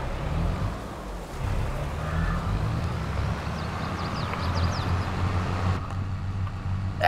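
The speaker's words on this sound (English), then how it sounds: "Car going this way." A car drives past in Farming Simulator 22, a steady low engine and road rumble holding through the whole stretch with a brief upward sweep late on, no talk.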